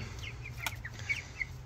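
Cornish Cross broiler chicks about three and a half weeks old in a barn give a few soft, scattered peeps and clucks over a steady low hum, close by and fairly faint.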